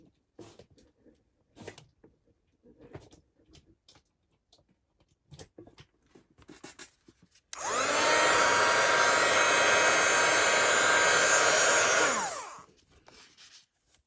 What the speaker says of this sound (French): Je vais mettre un coup de heat gun.